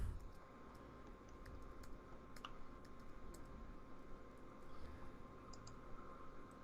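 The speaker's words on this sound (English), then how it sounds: "A lot of typing one-handed here" Fast, uneven clicks of one-handed typing on a computer keyboard, close and fairly quiet over a steady background hum, with no talk.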